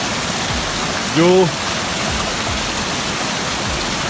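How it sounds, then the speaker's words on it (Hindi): Mountain-trail waterfalls in Gulmit, a steady broadband rush of falling water filling the scene, close and loud, with a brief spoken word partway through. "यहाँ आपको जगह जगह ऐसे झरने मिलेंगे"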